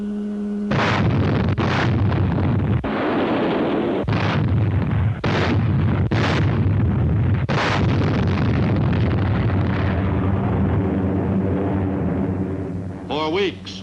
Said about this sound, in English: On January 29th, the warships began their softening up of Kwajalein Atoll.